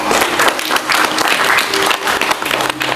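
A theatre audience applauds for a short, dense burst of clapping, loud and close, steady all the way through.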